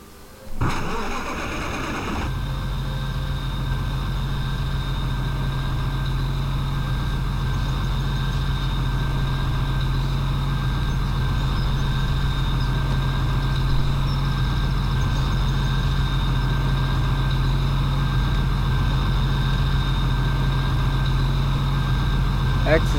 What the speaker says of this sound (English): Let's turn up the engine.